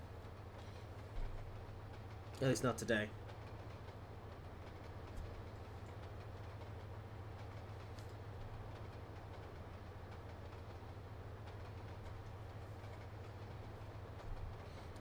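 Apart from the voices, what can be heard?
freight train running in the game Trainz Simulator 2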